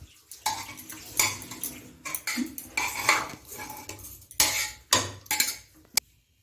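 A utensil scrapes and clinks against a pan as grated carrots are stirred and fried for carrot halwa, in irregular close strokes with brief pauses between them.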